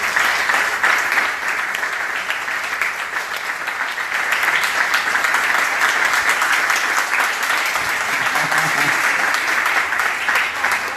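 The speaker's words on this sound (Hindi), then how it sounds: "क्यों ना पास्टर डैनियल के लिए जोरदार हम एक ताली बजाएं" A church audience gives Pastor Daniel loud, sustained applause, a dense wash of many hands clapping close and steady for about ten seconds without letting up.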